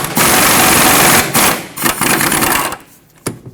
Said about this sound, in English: Use a 17mm socket to loosen up this mounting nut.